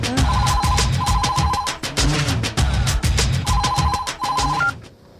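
A telephone bell rings loudly in repeated double bursts, with brief pauses between rings, sounding close and alone.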